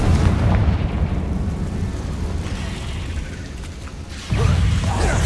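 A Confringo fire spell explosion in Hogwarts Legacy, a loud, dense rumbling roar that fades slightly over several seconds before a fresh blast swells back up near the end.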